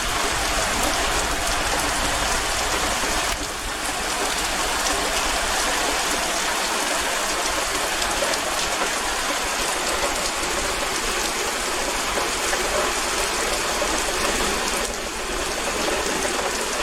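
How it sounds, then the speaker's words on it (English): Heavy summer rain in the UK pounds a patio and garden pots, a dense, loud, unbroken hiss of drops bouncing off hard surfaces, with brief slight dips in intensity and no voices. "The rain was just bouncing."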